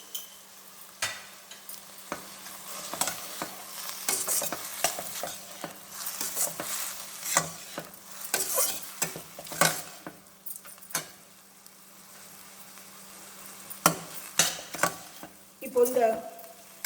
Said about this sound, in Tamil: எண்ணெயில் கொஞ்சம் ஃப்ரை பண்ணுறேங்க